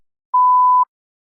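A single clean electronic beep of about half a second marks the start of a response in a TOEFL speaking practice test, loud and alone against silence.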